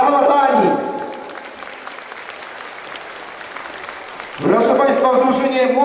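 Crowd clapping for a girl football player at a youth football gala, bursting loud at the start, dropping to a sparse patter, then swelling again near the end.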